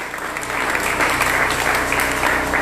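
A church congregation breaks into applause during a French-language Wednesday teaching service, dense steady clapping filling the whole stretch, loud and close.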